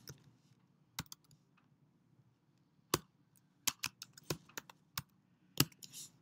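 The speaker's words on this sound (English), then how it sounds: "So if I type some text here," Sparse, crisp keystrokes on a computer keyboard as text is typed in Adobe Illustrator 2015, isolated sharp clicks separated by pauses, close and clear against near silence.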